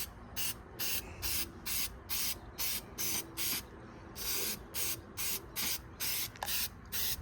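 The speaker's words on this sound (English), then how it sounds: "we're just gonna use some of this K&N air filter oil and start spraying" Repeated short hissing bursts of K&N air filter oil sprayed from an aerosol onto a Kawasaki KLX 110 air filter, evenly paced, with one longer continuous spray in the middle, close and fairly quiet.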